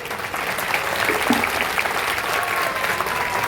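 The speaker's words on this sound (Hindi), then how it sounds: "एक बार जोरदार तालियां बजा दीजिए दोस्तों" An audience at a Sardar Vallabhbhai Patel Jayanti gathering in Etawah claps in steady, dense applause, many hands at once, close and sustained throughout with no break.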